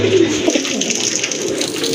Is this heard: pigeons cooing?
yes